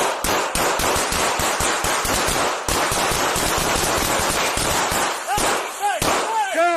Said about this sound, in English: Shot fired, man down.